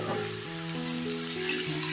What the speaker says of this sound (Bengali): এবার পেঁয়াজের সঙ্গে চিকেনগুলোকে ভালো করে ভেজে নেব।